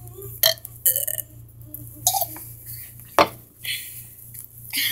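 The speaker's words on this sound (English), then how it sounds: "I'm gonna burp back." Loud, close burps from a burping challenge, several belches of varying length spread across the clip over a steady low hum, with faint clinks of dishes or cutlery nearby.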